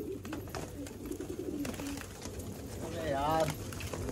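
A pigeon caught by hand, giving soft coos and a brief flurry of bird sounds close by amid rustling and handling noise, with people talking over it.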